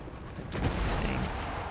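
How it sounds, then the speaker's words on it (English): Howitzer artillery in Civilization VII firing on a battleship, a dense rumbling blast swelling midway and sustaining as a broad, noisy roar with no speech. "Let's get these howitzers against the battleship."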